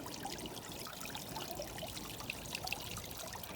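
Water trickling and splashing faintly as it is poured into a small backyard pond, a soft continuous dribble heard from close by.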